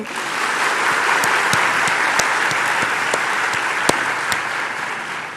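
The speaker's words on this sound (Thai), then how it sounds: "อยากให้พวกเราปรบมือให้กับตัวเอง" Audience at a youth camp certificate ceremony applauds together, a loud, close, steady patter of hands with a few sharper individual claps standing out.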